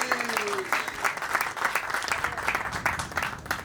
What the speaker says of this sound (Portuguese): peço também uma salva de palmas para ele